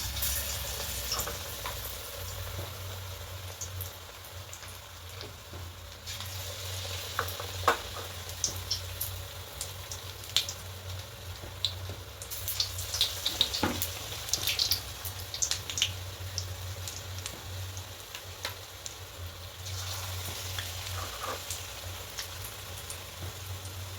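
Batter-coated eggplant slices for beguni fritters fry in hot oil, giving a steady, close bubbling sizzle with small crackles and pops that runs the whole time.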